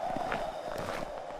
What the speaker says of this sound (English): you'll notice there the footstep sounds changed as well